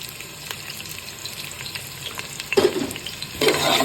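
Sliced onions hit hot oil and fry with a steady sizzle, a spoon stirring through them with louder scraping bursts near the end; no voices.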